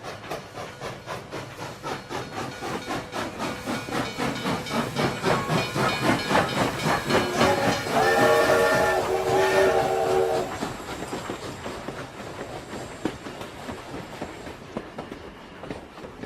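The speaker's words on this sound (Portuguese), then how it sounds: "O trem chegou." A steam locomotive train pulls in to arrive at the Padre Nóbrega district, with steady rhythmic chugging and hissing steam. Loud whistle-like tones swell in the middle, then the clatter settles into lighter mechanical noise, with no talk.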